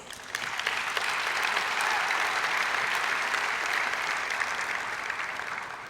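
A large audience applauds steadily for several seconds, a dense wash of clapping that swells quickly and then fades slightly at the end.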